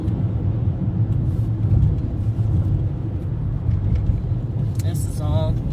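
A car drives into a residential neighborhood through a dust storm, a steady low engine and road rumble mixed with blowing wind throughout, with a brief higher chirp near the end.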